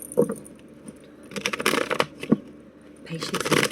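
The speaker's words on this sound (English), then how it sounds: "A little bit more shuffle." Tarot cards shuffled by hand in several rustling, riffling bursts with short pauses between them, close and moderately loud.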